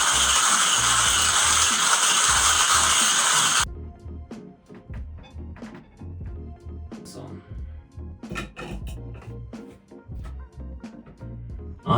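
A KINGrinder K6 hand coffee grinder, filled with coffee beans, is cranked after a loud opening burst, giving a close rhythmic ratcheting and crunching with clicks as the handle turns.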